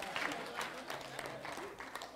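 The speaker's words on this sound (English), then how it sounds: "Rick, give Rick a big round of applause here." Applause from a church audience, a short burst of scattered clapping at moderate level with some voices mixed in.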